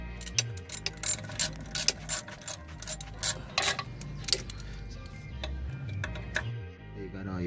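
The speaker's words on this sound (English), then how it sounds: "When tightening down your pressure plate, you wanna go in a crisscross method, so you tighten it all evenly." A hand ratchet clicks steadily as it tightens clutch pressure plate bolts in a crisscross order on a Volkswagen MK4, quick close ticking runs with brief pauses, fairly quiet.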